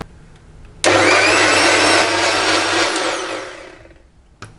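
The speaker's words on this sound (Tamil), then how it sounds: "இதை நல்லா மிக்சியில் அடிச்சுக்கலாம்." A kitchen mixer grinder blending mango, sugar, curd and milk switches on abruptly into a loud, steady whirring roar, holds for about two seconds, then winds down and fades, ending with a short knock.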